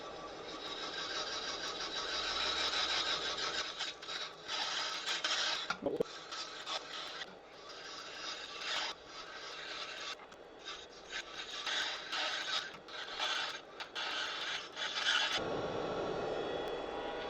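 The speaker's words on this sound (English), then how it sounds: "now time for a round flat top carbide" A round flat-top carbide tool cuts wood on a lathe while turning a closed hollow form, giving a continuous close scraping rasp that fluctuates in intensity and then stops abruptly near the end.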